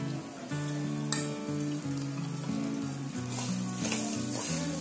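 Coriander leaves stirred through roasted semolina (rava) in a pan, a steady close sizzle with soft scraping strokes running throughout, plus a few faint clinks; music plays alongside.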